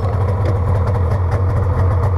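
A 1991 Polaris Indy Sport 440 snowmobile engine runs steadily after starting, a loud, close, buzzing idle with a low throbbing pulse and no talking.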